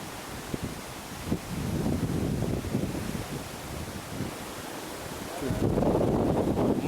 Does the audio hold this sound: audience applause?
no